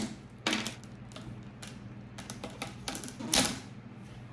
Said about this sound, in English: I'm using these wire cutters to help me cut through.